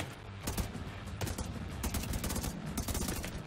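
Rapid gunfire bursts and crackling shots from the video game The Division 2 run continuously, dense and fairly loud, with overlapping automatic fire and no clear talk.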